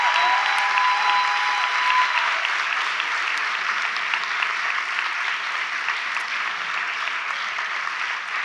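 An audience at an evening talk in Vincennes gives sustained, dense applause that stays even and loud throughout, with no voices over it.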